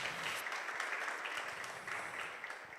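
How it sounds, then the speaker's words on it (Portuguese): A church congregation applauds during a Portuguese-language service, a soft, continuous wash of many hands clapping that sounds somewhat distant and low in level throughout. "Você pode aplaudir o Senhor?"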